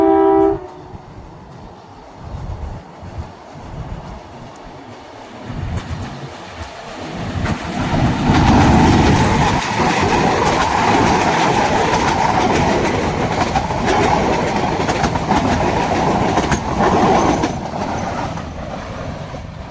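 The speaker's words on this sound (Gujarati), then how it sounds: "તો હવે આવી ગઈ છે આપણી ટ્રેન," A train arrives, building from a quiet rumble after a brief horn blast at the start into a loud, close, sustained roar of rolling wagons with rhythmic clattering over the rails.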